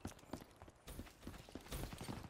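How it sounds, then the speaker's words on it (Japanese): Rapid running footsteps in a Call of Duty Black Ops 3 Domination match, a busy patter of close, quick steps on a hard surface over game noise, with no talk. "めっちゃ足音してるし"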